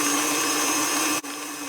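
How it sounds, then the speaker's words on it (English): An electric mixer beats holiday cookie dough with a steady close whirring drone that briefly dips and then continues at a slightly lower level. "Beat this for a little bit, 30 seconds or so, till it gets a little fluffy."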